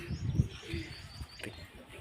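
Soft, low cooing from pigeons close by, a few murmuring calls near the start, with faint rustling and background noise throughout.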